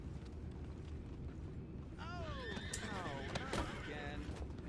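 A horse neighs and whinnies in Red Dead Redemption 2, several rising and falling calls from about two seconds on, heard over a steady background rumble with faint hoofbeats.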